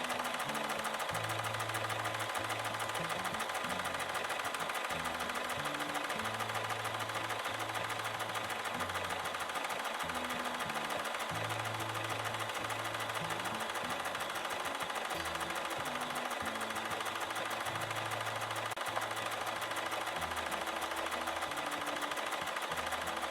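A Bernina sewing machine runs steadily through hand-look quilting stitches, a continuous close mechanical whir with a fast rhythmic needle clatter that keeps an even pace throughout, with no talking.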